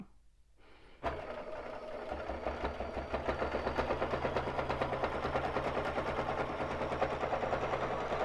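A Baby Lock Jazz II sewing machine mounted on a quilting frame starts up after a short quiet moment and runs at a steady, fast rhythmic stitching pace for free motion quilting, loud and close.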